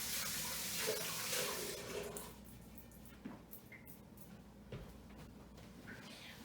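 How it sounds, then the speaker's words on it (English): Water from a kitchen tap runs while hands are washed, a steady broadband rush strongest in the first two seconds, then thinning into lighter splashes and drips. "I'm gonna wash my hands."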